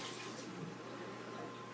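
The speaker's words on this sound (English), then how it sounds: "You don't have to pour all the noodles out, you just have to pour all the water out." Noodle cooking water pours from a pot into a kitchen strainer as a steady, close rushing splash that holds evenly through the whole moment, with no voices.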